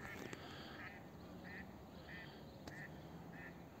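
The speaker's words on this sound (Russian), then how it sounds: "Одни утки вон крякают." Wild ducks sitting on open water quack in a faint, evenly spaced series of short calls carried from a distance over a calm, windless background.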